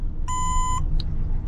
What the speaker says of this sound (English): hold down the troll button. You hear the beep.